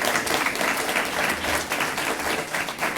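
An audience applauds a student award recipient at the Madison Rotary Student Awards 2025, a steady, dense burst of clapping that holds for the whole stretch without fading.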